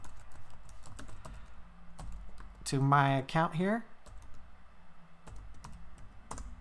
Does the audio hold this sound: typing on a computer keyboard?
yes